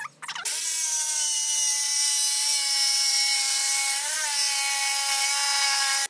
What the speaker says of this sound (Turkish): Şu şekilde bir dekupaj makinemiz var.